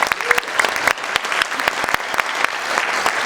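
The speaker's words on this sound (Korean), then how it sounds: "뜨거운 박수 부탁드리겠습니다." An audience at a Korean political economics talk concert bursts into loud, dense applause, many sharp hand claps close together and continuing throughout, with little other sound.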